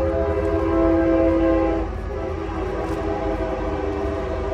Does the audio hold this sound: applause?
no